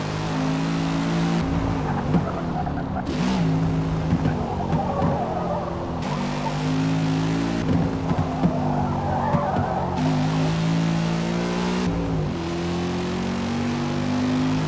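An American muscle car roars in Forza Motorsport, its loud engine rising and falling through repeated revs and gear changes while tires squeal and skid, with no voices over it.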